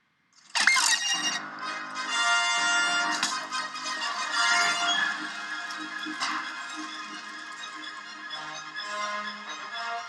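A machine's engine in the game Book of Unwritten Tales 2 kicks in abruptly, then keeps running with a steady, dense mechanical whir and hum that swells slightly and slowly eases, with no talking.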